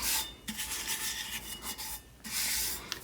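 A bare hand rubs a glitter tattoo onto a Tack-It tumbler cup, making a soft, dry, rasping friction sound in quiet back-and-forth strokes with brief lulls.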